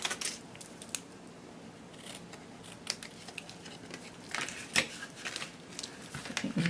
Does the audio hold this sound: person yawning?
no